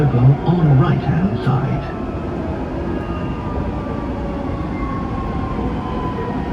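A Dubai Metro train in motion gives a steady, loud interior rumble with a faint rising whine, and a voice speaks briefly near the start before the even hum carries on alone.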